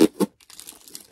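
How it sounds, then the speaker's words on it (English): Yellow duct tape is ripped off a rain-proofed package in two loud, quick tearing bursts, followed by softer crinkling and rustling of the packaging. "she didn't like the tape noise, which is understandable. Because it is kind of loud."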